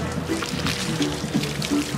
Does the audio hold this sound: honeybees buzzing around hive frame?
no